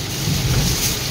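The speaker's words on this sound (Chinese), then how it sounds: "我看到下暴雨了" A heavy afternoon downpour pours down in a steady, dense hiss and roar that stays loud and close throughout, with no voices over it.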